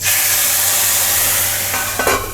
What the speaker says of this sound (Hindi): ये क्रैकल हो चुका है हमारा सौंफ वगैरह। तो ये घोल मैं इसमें ऐड कर रही हूँ